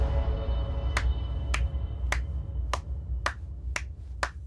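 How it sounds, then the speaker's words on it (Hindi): A slow series of seven sharp, evenly spaced claps from a single person in a Hindi-dubbed South Indian action movie scene, each crisp and distinct over a low background rumble. "तालियां बजाओ बे।"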